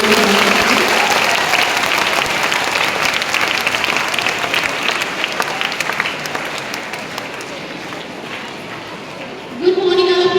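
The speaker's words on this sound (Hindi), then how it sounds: "जोरदार तालियों के साथ में" Loud, dense applause rolls through a Hindi Diwas school function for about ten seconds, a steady wash of many hands, before it stops and a voice begins speaking.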